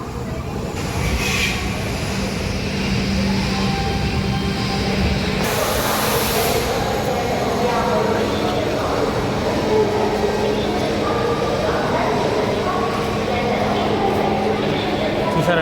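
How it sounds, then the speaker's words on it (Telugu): Falaknuma Express from Howrah to Secunderabad standing at platform 6 of Secunderabad station, with a steady loud rumble of train and station noise throughout and people talking over it. "ప్లాట్ఫామ్ నెంబర్ 6 మీద ఇప్పుడే హౌరా నుంచి సికింద్రాబాద్ ట్రైన్ అయితే వచ్చింది"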